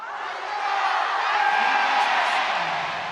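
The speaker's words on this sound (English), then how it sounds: "The crowd doing their best to wake him up" An esports arena crowd at a League of Legends MSI 2026 match yells and cheers in a dense, continuous roar that swells slightly midway and holds steady.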